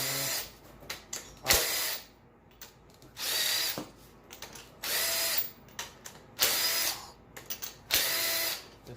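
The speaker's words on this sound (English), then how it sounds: "we're gonna zip all these head bolts off now" Power tool zipping Ford Lincoln head bolts out of an engine in bursts of a few seconds each, loud and close, with short pauses between bolts and a ratcheting rattle in between.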